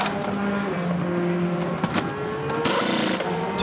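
A prototype race car at the 2016 6 Hours of COTA, an FIA WEC endurance race, on used tyres through turns 17 and 18, its engine note holding a steady buzzing drone with shifting pitch and a louder surge near the end.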